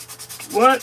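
A short burst of rough, scraping friction that swells loudly and fades, like sandpaper rubbed hard across wood during carving, with no voices.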